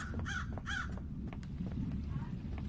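Crows caw in the video game Paradise Killer, two harsh calls near the start followed by fainter scattered caws over a low rumbling background.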